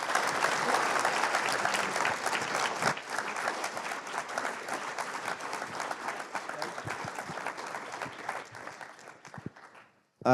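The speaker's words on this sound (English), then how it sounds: "Let's give these 4 gentlemen a big round of applause." An audience at a fitness business Q&A with four guests breaks into sustained applause, a dense crowd of clapping that runs steadily for several seconds before thinning out and stopping.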